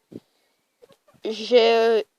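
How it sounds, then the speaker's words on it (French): A Sussex rooster lets out one loud, close, drawn-out call lasting under a second, preceded by a few faint scattered noises and silence. "Donc là j'ai un coq Sussex comme vous voyez"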